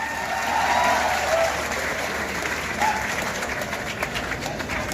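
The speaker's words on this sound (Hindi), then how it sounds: "आवाज से नहीं, ताली लेके स्वागत करो तो ज्यादा अच्छा लगेगा।" Audience applause at a college annual function and award ceremony, a dense steady wash of clapping welcoming guests, sustained and fairly loud throughout with no clear talk over it.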